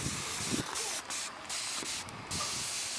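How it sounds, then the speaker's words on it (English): Short bursts of compressed air blow across a freshly cleaned engine from a vintage Honda Z50/CT70 minibike, loud steady hissing gusts separated by brief pauses, with no talking. "Air blew it dry with a compressor."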